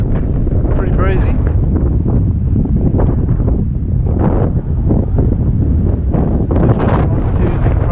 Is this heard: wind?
yes